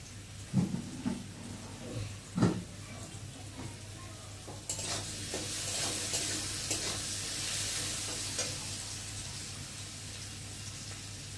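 Potatoes fry in oil in a pan, with a couple of louder stirring clatters early on, then a broad, steady sizzle that swells and holds for the rest of the clip, no talking.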